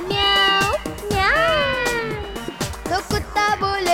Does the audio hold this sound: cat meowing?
yes